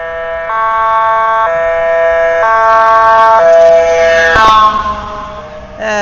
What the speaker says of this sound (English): that's what the ambulance sound like locally on Phuket Island